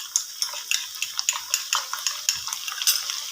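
Garlic-ginger paste with ground green chillies roasting and being stirred in a pot for dhaba-style daal chana qeema, a steady run of rhythmic scraping, clinking stirs over a soft sizzle, close and fairly loud, with no talking.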